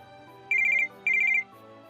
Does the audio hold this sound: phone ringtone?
yes